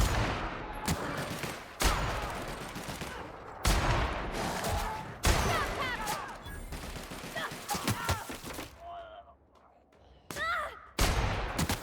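Gunfire in the video game Monarch, including a sniper rifle: several sharp, loud shots and bursts repeat across the stretch, with brief quieter gaps and a voice speaking lightly in between.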